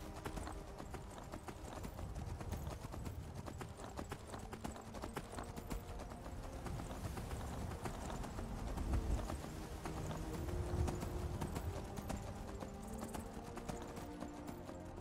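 Horse hoofbeats from riding in Skyrim, a steady galloping clip-clop with a soft rumbling underlay, continuous and fairly close, with no speech over it.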